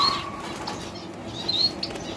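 A male Gould finch in an aviary flutters its wings in a short, soft burst of flapping, close by, with faint chirps around it.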